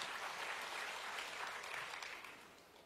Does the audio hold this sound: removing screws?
no